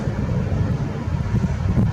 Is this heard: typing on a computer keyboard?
no